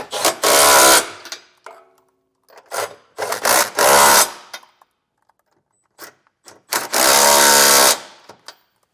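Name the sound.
power tool with 19mm socket tightening trailer hitch bolts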